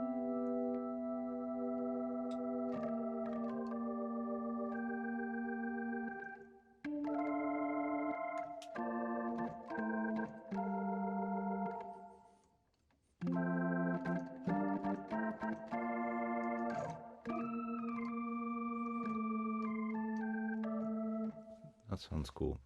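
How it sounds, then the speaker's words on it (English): A flute-like synthesized patch from the Acoustic Samples B5 sample library plays sustained melodic notes and chords in a smoky ballad style, soft and breathy, with brief pauses between phrases. "That kind of fluty thing."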